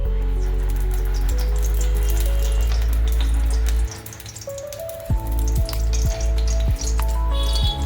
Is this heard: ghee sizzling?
yes